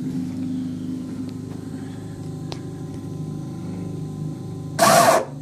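An Ascend A10 kayak's trolling-motor steering motor runs with a steady, faint electric hum, ending in a brief louder rush of noise near the end; no one speaks.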